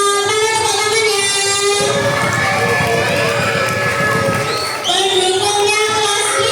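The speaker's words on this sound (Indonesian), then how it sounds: "Mana tepuk tangannya?" A crowd of elementary schoolchildren at a school competition shouts and cheers loudly and continuously, with clapping and a brief dip before the noise swells again.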